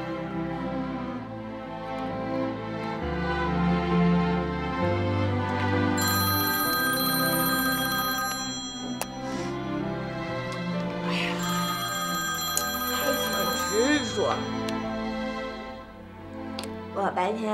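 A telephone ringtone in a Chinese family TV drama plays a repeating electronic melody and goes unanswered, with voices talking over it.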